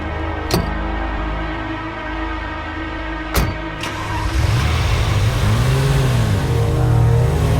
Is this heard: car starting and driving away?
yes